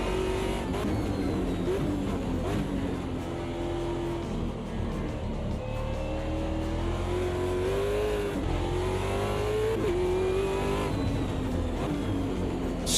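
A race car engine in a sim racing game revs hard and loud, its pitch climbing and falling through abrupt, brutal gear changes over a continuous roar, with no one talking.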